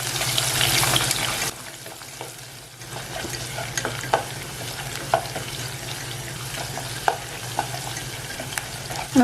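Small onions (shallots) frying in oil with cumin for a Kannur-style koottukari, a steady sizzling hiss that starts loud, then settles under intermittent scraping and stirring clicks, with no talking.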